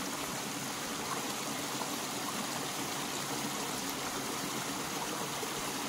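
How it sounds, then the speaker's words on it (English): Steady stream of water pouring into a concrete collection box for an off-grid micro hydro generator, a constant, fairly faint rushing flow. "So there's quite a substantial amount of water coming through"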